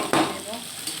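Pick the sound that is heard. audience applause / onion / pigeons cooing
onion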